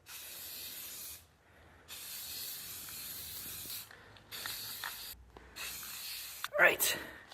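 Aerosol primer sprayed onto the bottom of a rusty old metal toolbox being restored, heard as long steady hissing bursts separated by short pauses, close and fairly loud, with a few clanks and rattles near the end.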